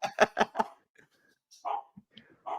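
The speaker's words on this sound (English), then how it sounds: "as you can hear by the yelping of dogs" Dogs in a home bark four times in a quick burst, then let out scattered softer yelps and whimpers, fairly faint and with no talking.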